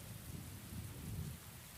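Steady rain with low rumbling thunder in a Hunter x Hunter anime scene set in Yorknew City, a continuous dense wash of falling water over a deep, swelling rumble throughout.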